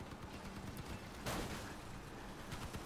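Gunfire in the Crossout vehicle combat game, a steady wash of rapid shots from a raised position with a louder burst partway through, dense and continuous rather than distinct single cracks.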